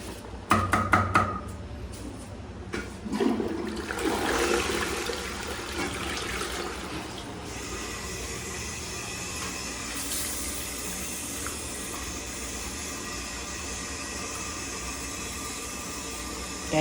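A toilet flushes with a loud rushing surge, then the tank refills with a steady hiss of running water that continues to the end, in an office restroom.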